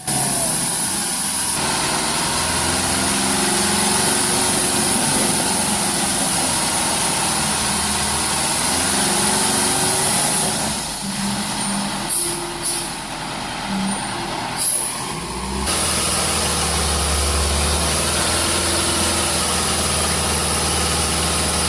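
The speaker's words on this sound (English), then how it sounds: "You can hear the revs climb a bit as it digs in for the incline." A heavy truck hauling up an incline, its engine droning loud and steady with a deep rumble, a short dip and sharp hiss of air brakes partway, then the engine pulling strongly again.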